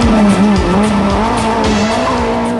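Renault Clio rally car sliding sideways on a tarmac rally stage, engine revving hard with tires squealing in a loud, close skid that wavers in pitch throughout.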